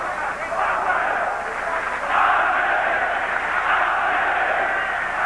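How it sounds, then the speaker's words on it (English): A boxing crowd of about 6,000 fans in Wrocław, Poland, roars continuously to urge on heavyweight Andrew Golota, a dense sustained cheer that swells midway and stays loud throughout. "The crowd trying to urge on Andrew Golota."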